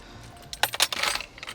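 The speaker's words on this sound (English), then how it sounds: "my keys can go here" Keys dropped into the center console of a 2020 Volvo S60 T8 R-Design sedan: a quick cluster of close, bright metallic jangles and clinks over a quiet cabin.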